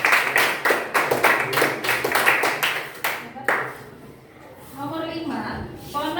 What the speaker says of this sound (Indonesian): oke, tepuk tangan kelompok